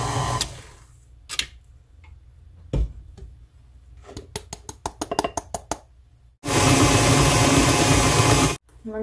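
An electric hand mixer whirring through cream cheese spread and powdered sugar, coming in short bursts and clicks before a long loud continuous run, then stopping.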